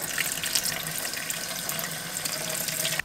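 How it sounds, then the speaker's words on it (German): Cold water runs steadily from a kitchen tap as a container is rinsed out during homemade kefir preparation, a continuous close hiss and splash with no voices. "Jetzt spülen wir den einmal mit kaltem Wasser aus, also auch hier kein warmes Wasser verwenden."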